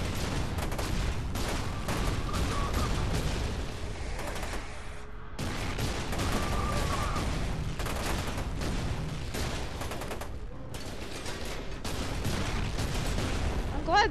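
Gunfire striking the player in the first-person shooter FEAR 2: a constant, heavy barrage of rapid shots and impacts, breaking off briefly midway before resuming, with occasional talking underneath.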